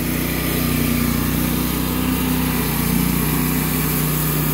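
A Wood-Mizer sawmill's gas motor running rough and smoky with too much fuel, a loud steady buzzing drone that holds unbroken throughout at close range.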